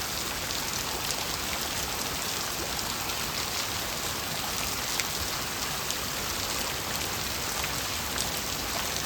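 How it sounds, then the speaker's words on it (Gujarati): Steady drizzle falls without a break, a soft even hiss of rain on surfaces with faint scattered drops, close by and with no voices over it. "હે આયો છે ભાઈ વરસાદ 2 વાગ્યાનો"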